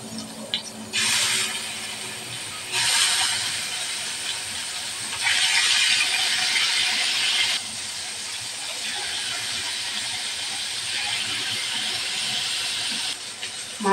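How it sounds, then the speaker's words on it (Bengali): Fish frying in hot oil, a loud broadband hissing sizzle that surges in bursts and steps between louder and quieter stretches, close and without talk. "তেল গরম হয়ে গেছে, দিয়ে দিব মাছ।"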